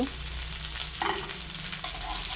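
Fish fry sizzling steadily in a hot pan, with soft stirring scrapes breaking in once or twice over the crackle of the oil. Close and moderate in level, with no voices.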